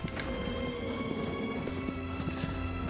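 Horse hooves clip-clop in Shadow of the Colossus, a steady, fairly close galloping rhythm of soft thuds running throughout over a sustained musical drone.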